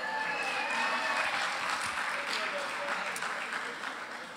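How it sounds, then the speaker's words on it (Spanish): A congress audience in a large hall applauds for a volunteer who raised his hand, a sustained, even wash of clapping with a voice over it at the start. "Un aplauso para el enamorado."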